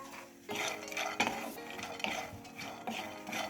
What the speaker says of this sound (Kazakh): Ең алдымен орехтерімізді сковородкада қуырып аламыз